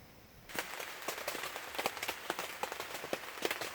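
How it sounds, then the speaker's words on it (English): Rain beginning to fall on a makeshift tacked-down roof covering over an off-grid cabin shed build, with scattered sharp drops tapping steadily and growing denser after a quiet start. "Well, as you can hear, it's starting to rain"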